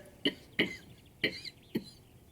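Four short, sharp coughs come in quick succession, fairly close, with brief quiet gaps between them.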